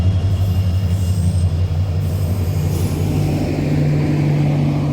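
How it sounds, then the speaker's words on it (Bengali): A Vistadome tourist train in North Bengal rumbles past close by, a deep steady drone of wheels and engine with faint metallic squeals on top. "ভিস্তাডোম গাড়ি যাচ্ছে।"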